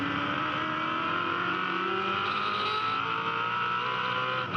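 A 289 cubic inch V8 touring car races uphill at Bathurst, its engine a loud, steady, sustained roar that holds at high revs without letup for several seconds.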